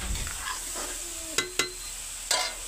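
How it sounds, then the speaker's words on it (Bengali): Bottle gourd with fish head, cumin and coriander powder being stirred in a pan with a steady background sizzle, punctuated by a few sharp spatula scrapes against the metal. "মশলাগুলোর সাথে লাউগুলোকে ভালো করে মিশিয়ে নিয়েছি।"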